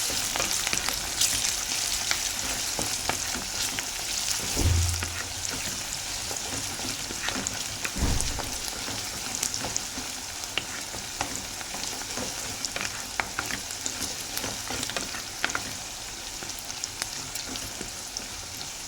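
Fenugreek seeds fry in a pan with a steady, close sizzle and crackle throughout, with occasional stirring bumps and pops.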